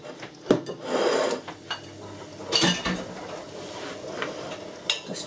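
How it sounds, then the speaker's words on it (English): A knife slices and scrapes cooked roast chicken on a cutting board, with irregular clinks and rasping strokes close by, no voices. "And I'll cut chicken."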